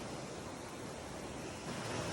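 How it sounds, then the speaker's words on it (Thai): Ocean waves washing onto the sand at a beach in Rayong, Thailand, a steady broad roar of surf with wind, close and loud, no talking. "นี่นะฮะเรียกว่าคลื่นกระทบทราย"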